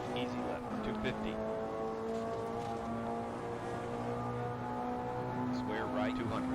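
In Richard Burns Rally on PC, a small four-cylinder rally car's engine drones steadily with shifting pitch under a co-driver calling pace notes, with a few rising rev sweeps near the end.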